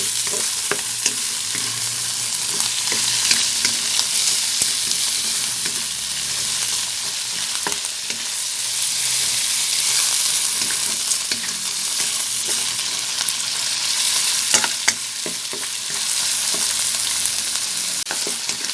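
Crab and garlic stir-fry in a hot pan, a loud, continuous sizzle with frequent scraping and clinking of a spatula, close and without voices.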